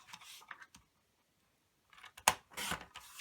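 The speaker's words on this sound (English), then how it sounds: "we're just going to cut that into 2 inches" Scissors snip through a 12-inch paper strip, cutting it into 2-inch squares: a few quick, close cuts early on, a pause, then a sharp crisp snip followed by a longer slicing cut.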